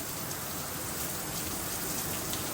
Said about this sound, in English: Well, we're getting a little rain now.